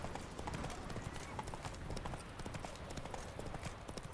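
Geralt's horse Roach gallops in The Witcher 3, a steady run of hoofbeats clip-clopping over continuous game ambience with a brief whinny, fairly loud and close throughout.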